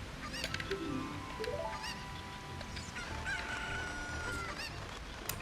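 Chicken clucks and crowing from the video game The Legend of Zelda: Ocarina of Time, with repeated rising squawks over steady game music and ambient noise, moderately loud throughout.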